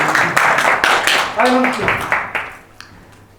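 Audience applause at an academic mathematics colloquium swells as a speaker talks over it, then fades away within about two seconds.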